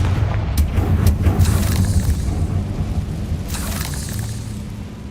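Confringo blasting spell explosions in Hogwarts Legacy, a few sharp booming blasts in quick succession with rumbling debris that decays toward the end, no talking.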